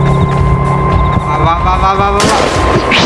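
Roblox gunfire crackles loudly amid dense in-game rumble and noise, with a sharp, brighter burst of shots breaking in near the end.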